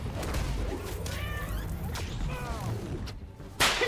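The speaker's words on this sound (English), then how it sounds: "you can pet this kitty, and any game that lets you pet a cat gets a 10 out of 10 from me" A cat meows a few times in the PS5 Spider-Man game, drawn-out cries standing clear over a steady background bed, followed by a sudden louder noise at the end.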